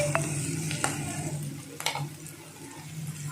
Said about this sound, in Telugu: ఇప్పుడు ఫ్రై చేసుకోవాలి మొత్తం ఉల్లిపాయ ముక్కల్ని బాండీలో బాగా ముక్కలు అనేవి మనకి ఆయిల్లో కలిసేలాగా కలుపుతూ ఫ్రై చేసుకుంటున్నాం